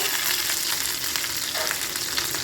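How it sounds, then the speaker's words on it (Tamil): Mustard seeds and curry leaves sizzling in hot oil, a dense, continuous crackle and spit close to the pan, with faint stirring scrapes; no one speaks. "கடுகு பொறிஞ்சதும் கொஞ்சமாக கருவேப்பில போட்டுக்கோங்க"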